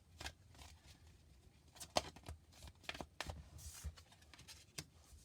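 A tarot deck is shuffled by hand, giving faint, crisp card riffles and light taps in irregular bursts in a quiet room, with no talking.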